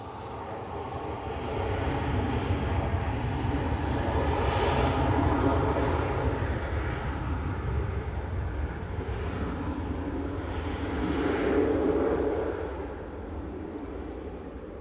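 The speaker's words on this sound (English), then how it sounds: "Ryanair departing to Limoges" A Ryanair airliner departs Manchester Airport, its jet roar swelling over a couple of seconds, holding loud and broad for about ten seconds, then easing off as it climbs away.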